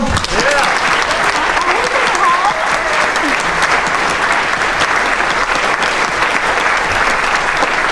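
Sustained, dense applause from a crowd at the 2021 Big Muddy Folk Festival, loud and steady throughout, with scattered whoops and voices mixed in.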